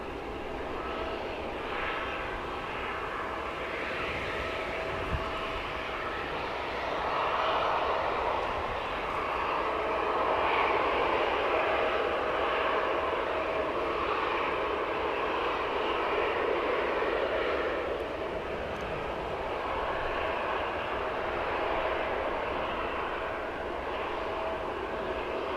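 A Malta Air airliner at Manchester Airport makes a distant jet rumble that swells in the middle and then eases off, fairly faint over the open-air background.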